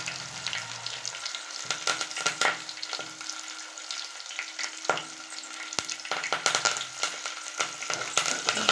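Buttermilk chillies and curry leaves frying in hot oil for moong dal, giving a steady close crackle and sizzle broken by sharper popping bursts, with no talking.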